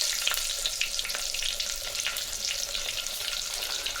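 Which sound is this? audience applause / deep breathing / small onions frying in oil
small onions frying in oil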